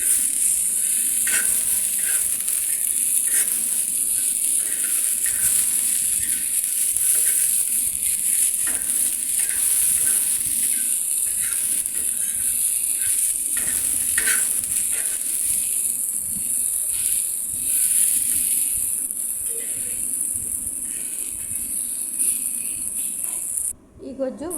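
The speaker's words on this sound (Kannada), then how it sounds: "ಟೊಮೆಟೊ, ಬೆಳ್ಳುಳ್ಳಿ, ಹಸಿಮೆಣಸು, ಟೊಮೆಟೊ ಮೂರನ್ನ ಚೆನ್ನಾಗಿ ಬೇಯಿಸ್ಕೊಳ್ಬೇಕು. ಫ್ರೈ ಮಾಡಿದ್ರೆ ಆಯಿತು ಎಣ್ಣೆಯಲ್ಲಿ." Tomato, garlic and green chilli frying in oil, a steady close hiss and sizzle with faint stirring taps running throughout, and no talk over it.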